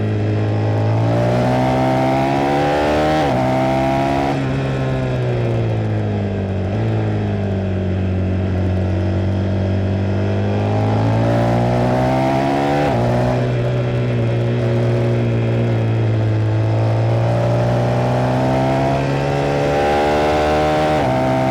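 A motorcycle engine runs on a winding mountain road full of bends, loud and close, its pitch rising and falling through the gears with two clear shifts as it is ridden at an easy, relaxed pace.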